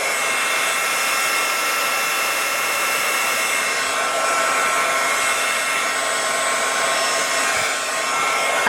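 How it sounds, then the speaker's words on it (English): Loud, constant rushing blast from a heat gun drying a Halloween craft project, held close and continuous throughout with no pauses. "I love this heat gun, but it's so loud."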